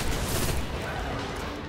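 Gunfire from the Destiny: The Taken King video game, a dense burst of rapid shots at steady loudness through the short clip, with game background sound underneath.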